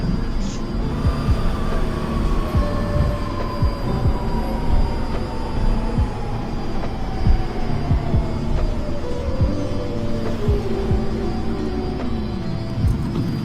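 A New York subway Q train runs Brooklyn-bound via the Second Avenue line. Close, continuous rumble with rhythmic wheel clacks and a long gliding metallic whine that slowly falls in pitch.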